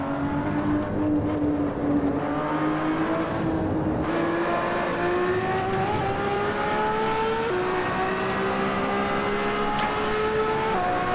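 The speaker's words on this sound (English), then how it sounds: "You can see that the speed builds very quickly in this car." Race car engine in the driving game Assetto Corsa, a steady loud whine climbing in pitch through several gear changes as the car accelerates, continuous and alone for the whole stretch.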